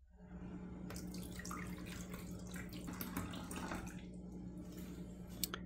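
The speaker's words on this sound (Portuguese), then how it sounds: "Então a água tem que ser despejada nesse reservatório aqui" Filtered water poured from a cup into the reservoir of a Hamilton Beach BrewStation carafe-free electric coffee maker, a steady close splashing trickle lasting several seconds with a brief clink near the end.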